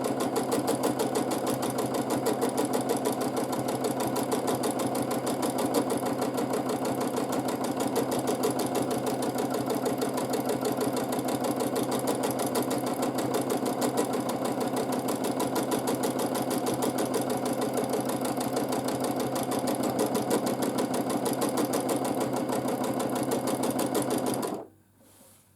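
A sewing machine runs steadily for free motion meander quilting, a loud, continuous close-up mechanical whir with a fast stitching rhythm that stops abruptly at the end.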